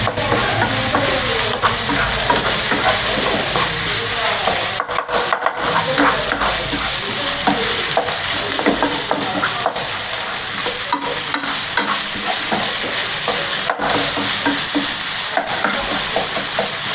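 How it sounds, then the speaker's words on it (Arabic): Minced meat kofta with onion and herbs sizzles loudly in a hot pan while a spoon scrapes and stirs through it continuously, close and without any talking. "المهم تخلطوا داكشي مزيان العناصر مزيان"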